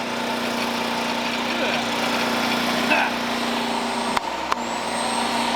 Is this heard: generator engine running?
yes